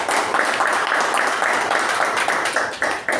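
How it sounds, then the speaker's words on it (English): An audience at a Toastmasters club meeting gives a brief round of applause, a dense, even clatter of many hands that stays loud throughout and fades slightly at the end. "can we have a big round of applause for Toastmaster Raja and Toastmaster Madhusudan"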